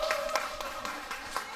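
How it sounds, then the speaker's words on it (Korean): An audience at an anniversary celebration performance claps in a loose, scattered rhythm, several distinct hand claps spaced apart at moderate distance over a quiet room. "박수 한번 주세요"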